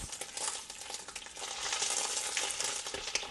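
Tomato paste frying in a pan while Jollof rice is being made, a steady close hiss and crackle of sizzling with occasional stirring noises and no talk.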